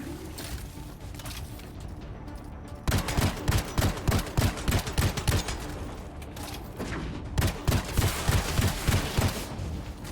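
Rapid bursts of weapon fire in the shooter game Anthem, with a short, quieter lead-in followed by dense, repeated rounds that pause briefly before another burst.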